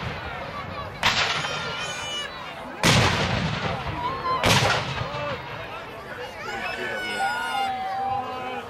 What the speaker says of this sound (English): Artillery opening up the battle here.